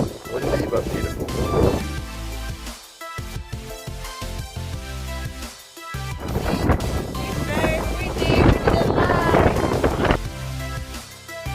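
Strong wind buffeting outdoors near a waterfall at Govetts Leap in the Blue Mountains, loud rumbling gusts that rise and fall, with a brief lull in the middle.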